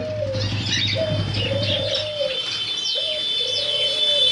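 Caged finches at a bird seller's give high, quick chirps and short twittering notes, mixed with the low, repeated cooing of nearby doves. The birds sound close and constant.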